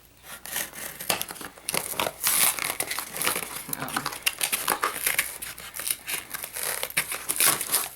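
Plastic packaging around a Nerf N-Strike Elite XD Crossbolt blaster is being cut and pulled open, with close, continuous crinkling and crackling of stiff plastic, some tearing and snipping, and no pauses.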